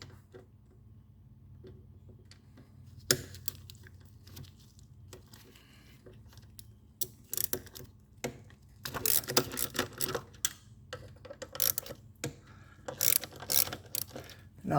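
A hand ratchet turns a socket on the intake manifold of a 2013 Ford Taurus, giving quick bursts of clicking pawl ticks that start sparse and grow busier over a faint background hum.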